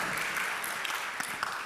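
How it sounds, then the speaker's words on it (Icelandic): Brief applause at a confirmation mass in a church, honouring the mother, a soft wash of many hands clapping with a few sharper claps near the end. "Gefum mamma okkar góð klapp!"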